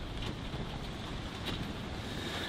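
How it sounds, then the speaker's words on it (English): Strong wind roars steadily across a river bank on the Burnett River, buffeting the microphone with continuous broadband rumble and gusts throughout, with no voices present. "It is so windy."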